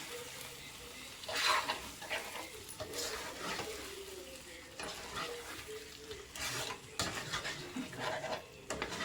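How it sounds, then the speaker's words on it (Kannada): Chicken liver fry being stirred in a pan with the stove switched off, quiet scraping and clinking of a utensil against the pan in uneven bursts over a faint sizzle. "ಈಗ ಸ್ವಲ್ಪ ಮಿಕ್ಸ್ ಮಾಡ್ಕೊಂಬಿಡೋಣ"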